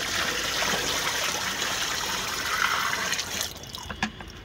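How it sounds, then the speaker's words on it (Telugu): Buttermilk pours steadily into a container of water to make a dilute feed for terrace garden plants. The liquid makes a continuous splashing gush for several seconds, then stops, leaving a few drips and small knocks. "ఇందులో పోసుకుందామండి. ఇలా ఆల్రెడీ వాటర్ ఉన్నాయి, వాటర్లో డైల్యూట్ చేసుకుందాం."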